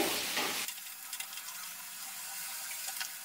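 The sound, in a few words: frying spice paste on high gas flame for paneer curry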